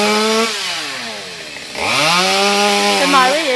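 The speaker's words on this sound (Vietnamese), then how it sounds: "sẽ cưa cái nhánh ở phía trong nè" A chainsaw cuts an inner branch of a termite-riddled tree that leans heavily over a roof, at a roadside cutting job. The engine drones loudly and steadily, sags briefly, then revs back up to a strong whine.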